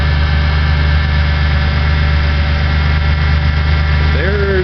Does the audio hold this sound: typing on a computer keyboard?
no